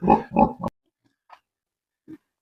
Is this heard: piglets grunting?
yes